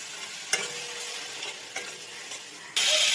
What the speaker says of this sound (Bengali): এবার অল্প অল্প জল দিয়ে আরও কিছুক্ষণ কষিয়ে নেব